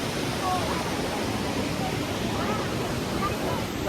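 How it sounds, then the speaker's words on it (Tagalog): Wadel Falls pouring in a steady, broadband rush of water, continuous and moderately loud with no breaks, heard outdoors. "Wadel Falls. Wadel Falls."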